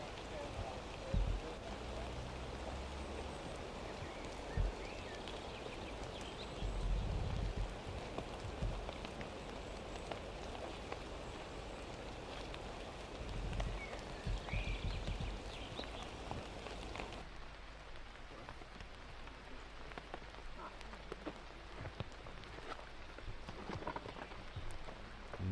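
Rain falls steadily during an outdoor disc golf round at the Ale Open, a soft continuous patter on surfaces heard under speech, with scattered louder drops and thumps throughout.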